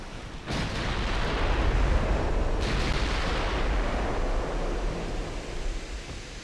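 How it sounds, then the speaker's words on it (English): A destroyer's secondary guns firing in a naval game, a loud roaring blast that starts abruptly and rumbles on as a broad, sustained wash with a second report partway through. "Secondary guns on the destroyer."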